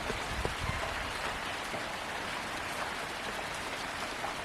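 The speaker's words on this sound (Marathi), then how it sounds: "हा एकदमच कमी पाऊस पडतो आहे" Light rain falls steadily near a house and farm fields in a Konkan village, a soft, even hiss of drops with no voices.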